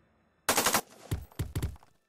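Gunfire in the Jagged Alliance 2 tactical game: a loud rapid burst of automatic shots followed by two shorter volleys of a few rounds each, sharp and close, ending in quiet.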